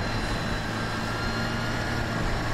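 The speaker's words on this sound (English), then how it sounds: "it's quite a whiny transmission" Case tractor engine in Farming Simulator 17 runs steadily with a loud, constant drone and a thin high whine from its transmission layered on top, unbroken throughout.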